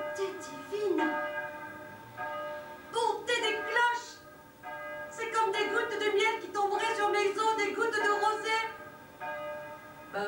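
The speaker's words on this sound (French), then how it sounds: "ces cloches, elles me foutent le bourdon" Church bells ring in overlapping, sustained peals with a rich metallic shimmer, swelling and fading in waves over a steady background.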